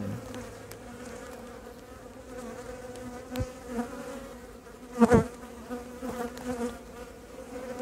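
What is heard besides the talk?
honeybees buzzing during a hive inspection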